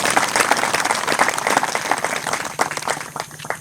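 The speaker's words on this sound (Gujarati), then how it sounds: "એમને પણ આપણે જોરદાર તાળીઓથી વધાવી લઈએ" An audience at a solar project opening programme breaks into loud, sustained clapping to welcome a guest, with a dense crowd of hands applauding throughout.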